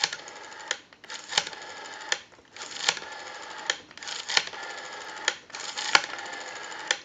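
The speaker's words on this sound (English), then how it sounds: "We have a nice smooth return on our rotary now." A Western Electric 302 rotary desk telephone dial spins back after each number in five or six rapid clicking runs, each lasting about a second and separated by short pauses. The sound is close and crisp, with sharp clacks where each return begins and ends.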